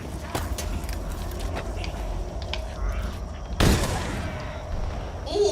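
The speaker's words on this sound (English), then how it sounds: "big explosion there" A big explosion goes off mid-battle in the Halo video game, a sudden loud broadband blast over constant rumbling gunfire and combat noise, followed by fading debris.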